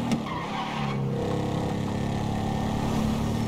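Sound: car engine revving while driving in GTA 5 video game

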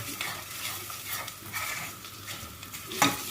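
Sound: flour roasting in oil in a pot for tarhana soup

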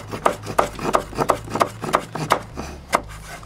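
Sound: chopping basil with a knife

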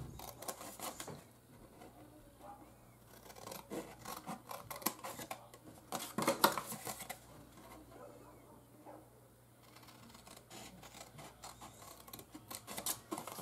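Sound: scissors cutting paper along score marks

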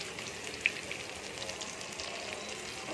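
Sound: chicken 65 deep frying in hot oil

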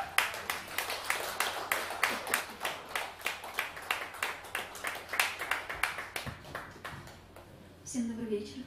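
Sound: audience applause welcoming a singer at a live concert

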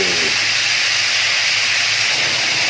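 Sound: water added to hot pan hissing

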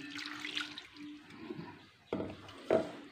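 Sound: water poured into grinder jar and swirled

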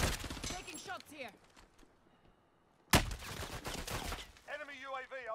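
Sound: gunfire in video game Call of Duty Warzone

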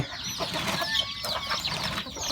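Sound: chickens clucking

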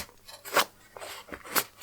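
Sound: scissors cutting string

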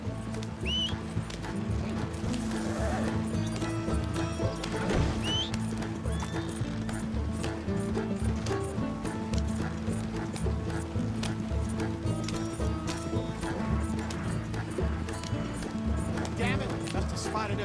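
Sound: stagecoach horses galloping in video game Red Dead Redemption 2

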